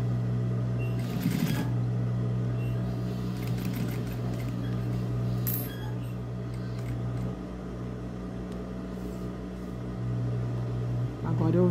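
A sewing machine stitches a double-welt pocket with a steady motor hum and rapid needle rhythm, then a short backstitch to lock the seam; a voice talks over the running machine.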